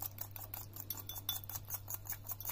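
A utensil clinks and scrapes against a bowl while cumin dressing is mixed, making quick, faint, repeated ticks in a steady stirring rhythm over a low electrical hum, with no voices.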